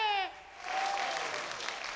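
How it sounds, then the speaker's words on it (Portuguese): Audience applause at an Italian-themed music and talent event follows a brief high tonal sound, swelling into a sustained, moderately loud patter of many clapping hands. "Agora uma salva de palmas para este outro aqui, Armando Valsani!"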